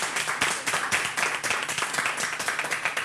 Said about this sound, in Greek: πάμε ένα μεγάλο χειροκρότημα το Μάικη Τσίκο που σήμερα ήταν κοντά μας